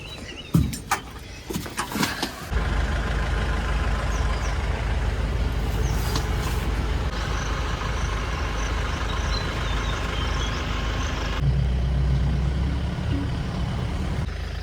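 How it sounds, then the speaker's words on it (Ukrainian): Many safari vehicles gathered at the entrance to Yala park in Sri Lanka in early morning. A continuous engine rumble and road noise carries steadily through, with a few brief knocks and clicks near the start. "Тільки шоста ранку і вже стільки машин."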